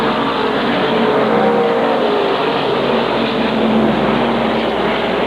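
SK modified race cars at full speed on the Waterford Speedbowl short oval during a 93-lap event, a loud, continuous engine roar with shifting pitch as cars pass, no talk over it.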